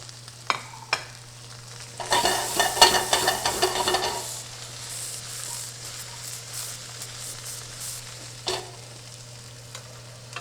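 Onions hit a hot pan with a burst of loud sizzling and stirring for about two seconds, then a quieter steady fry with a low hum throughout and a short clatter near the end.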